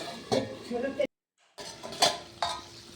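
Metal clatter from a cooking pot being covered with its lid, several close clanks and scrapes around a brief gap of silence while chicken stomach curry cooks.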